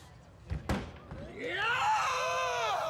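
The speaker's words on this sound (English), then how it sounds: "Screaming his way onto the platform" A man screams as he reaches the platform on an obstacle course, a rising, wavering yell that follows a couple of sharp thuds and holds loud and close to the end.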